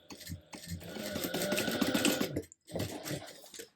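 Sewing machine stitching the corner seams of a shoulder bag at a 3/8 inch seam allowance, a steady close whirring run that stops briefly, then a second shorter burst of stitching.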